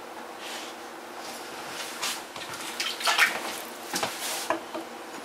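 Water runs into a cooking pan as it is rinsed out in a home kitchen, a steady hissing flow with splashy bursts and clatter as the pan shifts under the tap, close by.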